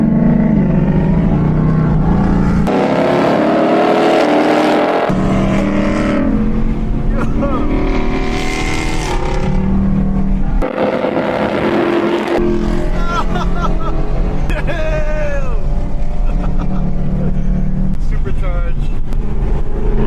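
Supercharged Ford Mustang GT, around 1,000 hp, roaring hard through an acceleration pull, loud and close with rising engine pitch, another S650 Mustang nearby, with excited talk over the engine.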